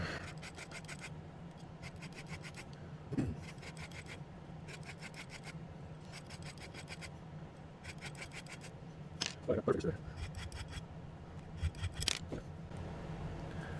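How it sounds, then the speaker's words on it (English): A hand file scrapes a small metal pendant in quick bursts of rapid strokes, repeated in regular clusters. The scraping is close but fairly quiet, with a few clinks and handling knocks between passes. "Getting a little aggressive with the file there."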